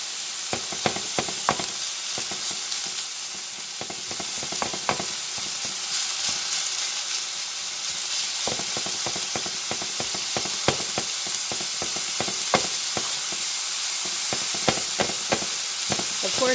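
Ground hamburger sizzles steadily in a hot pan, with repeated scraping, clacking strokes of a spatula chopping the meat apart, fairly close and with no talking.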